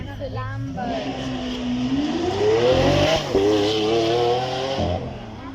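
A Lamborghini with a 6.5 litre V12 pulls away on a supercar demonstration run, the engine howling upward in a long rising sweep, dipping briefly at a shift, then climbing again, loud and sustained.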